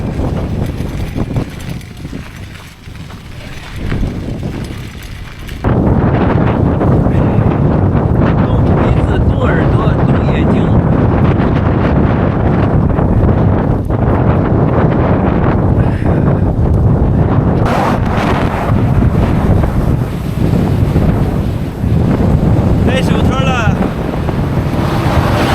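A strong, cold winter wind blows hard in the mountains near Genhe, roaring and buffeting the microphone loudly and continuously after a quieter opening few seconds.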